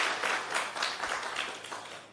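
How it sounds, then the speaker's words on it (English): An audience at a national health research conference gives presenters a round of applause, a room full of clapping with some distinct individual claps that gradually thins and softens. "Can we give them another round of applause,"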